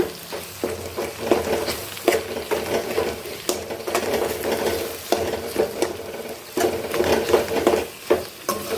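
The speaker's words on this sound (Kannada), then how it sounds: "ರುಬ್ಬಿರೋ ಮಸಾಲಾನ ಎಣ್ಣೆಗೆ ಇದ್ದೀನಿ ನೋಡಿ ಇದೇ ಎಣ್ಣೆಲೆ ಒಂದು ಸಾರಿ ಫ್ರೈ ಮಾಡ್ಕೊಂಬಿಡೋಣ" Ground masala paste frying in hot oil in a pan, with a steady sizzle and repeated scraping and stirring strokes close by, no voices.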